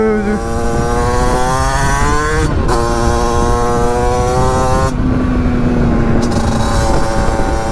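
A 50cc Italkit AM6 motorcycle engine with its idle not yet adjusted runs steadily up close, holding a loud buzzing two-stroke tone whose pitch dips and shifts slightly a few times, while someone speaks over it.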